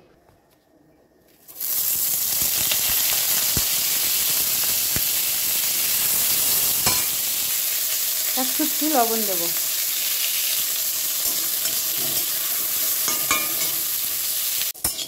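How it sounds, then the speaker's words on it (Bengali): Neem leaves fry in oil in a wok, a steady loud sizzle and hiss that starts abruptly and runs continuously, with a brief voice speaking partway through. "তো এই যে দেখুন নিম পাতা ভাজছি"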